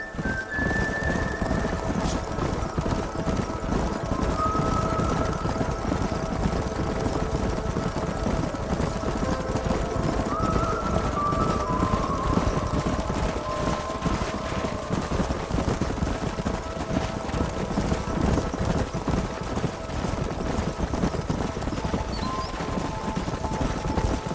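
Horses galloping in Red Dead Redemption, hooves drumming steadily throughout a dense, loud game soundscape, with occasional whinnies and sharp gunfire-like cracks mixed in, no talk.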